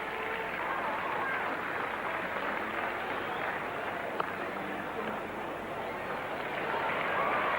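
A cricket crowd at a 1980 World Series one-day match in Brisbane applauds and cheers in a sustained, broad wash of clapping and crowd noise that holds for several seconds.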